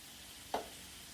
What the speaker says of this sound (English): I've got my hamburger cooking